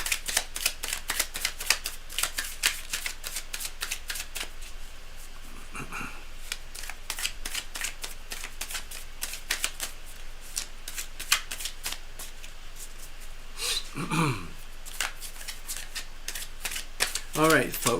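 Tarot cards are shuffled in quick, crisp riffles and snaps, a dense rapid flutter repeating close up for the whole stretch with occasional softer rustles.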